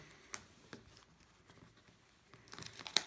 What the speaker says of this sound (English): This knife, for some bizarre reason, cannot cut through plastic.